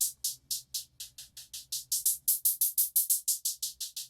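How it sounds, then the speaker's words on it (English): Bright synthesized hi-hat from an Arturia Pigments 4 preset, about twenty crisp closed hits in a steady, slightly swung rhythm, alone and close. "So we have a hi-hat right over here that sounds like this"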